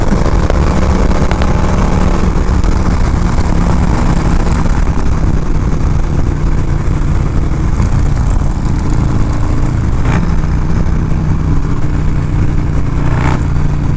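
A 1987 Harley FXR hot rod roars while riding, a loud continuous engine drone with heavy wind rush, close and unbroken throughout.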